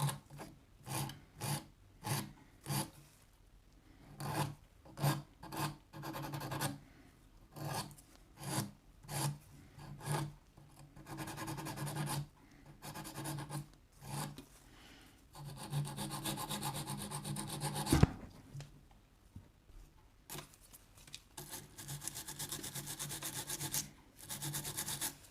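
An acrylic nail tip is filed into an oval shape with a rhythm of short rasping strokes, each loud and close, that later run together into a longer continuous scrub before short strokes return.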